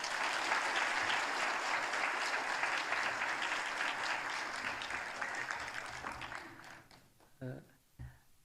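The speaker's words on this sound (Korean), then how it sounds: "큰 박수 축하하겠습니다." A church congregation at a worship service breaks into loud sustained applause that gradually fades over several seconds, ending in a few scattered claps and faint voices.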